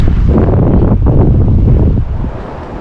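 Strong, steady wind buffets the microphone beside a clear steelhead and brown trout river in November, a loud continuous low rumble that eases slightly toward the end, with no talking.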